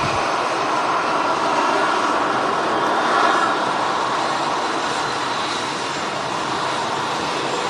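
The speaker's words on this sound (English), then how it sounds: "until we see the A380 touchdown here at Manchester Airport" An Airbus A380 landing at Manchester Airport, a steady broad engine roar holding constant throughout, fairly loud with a slight swell midway and no talk.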